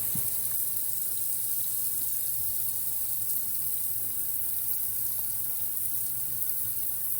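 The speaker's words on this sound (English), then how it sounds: "Make sure you wash the top of the jar good, the bottom, and rinse it off really good." Tap water runs steadily into a sink while glass canning jars are rinsed, a continuous close hiss and splash with no voices.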